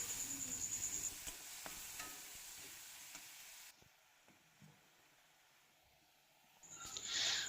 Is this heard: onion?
yes